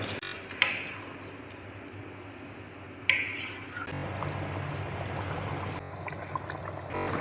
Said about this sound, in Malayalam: വെള്ളം കൂടെ നമുക്ക് ഇതിൽ ഒഴിച്ച് കൊടുക്കാവേ